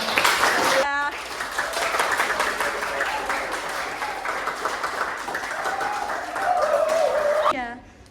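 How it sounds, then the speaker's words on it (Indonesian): Classmates applauding after a class presentation, a few seconds of clapping from a group in a room, with voices and other noise mixed in around it. "Beri tepuk tangan untuk teman-teman semuanya."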